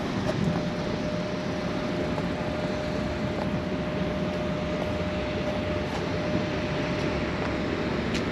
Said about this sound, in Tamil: அது பிக்சல் ரயில்வே ஸ்டேஷன்.